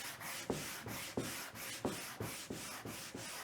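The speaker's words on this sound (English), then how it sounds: "varnish, a little light scrape." Scraper drawn in short, light strokes across a varnished wooden waterfall dresser, about eight rhythmic rasping passes with a sharp onset on each, close and steady with no talking.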